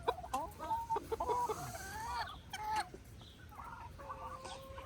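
Several farmyard chickens cluck and squawk nearby in short, irregular bursts over a quiet outdoor background.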